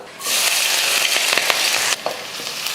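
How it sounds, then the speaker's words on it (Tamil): Chopped carrot, beans, onion and green chilli hit hot oil with a sudden loud sizzle, then crackle steadily up close, with light stirring scrapes under the hiss. "எண்ணெய் நல்லா காஞ்சிருச்சு அதில் கொஞ்சம் கேரட்டு கொஞ்சம் பீன்ஸு கொஞ்சம் பெரிய வெங்காயம் ஒரு பச்சை மிளகாய் மட்டும் வெட்டி எடுத்திருக்கேன் இதை அப்படியே சேர்த்துடலாம்"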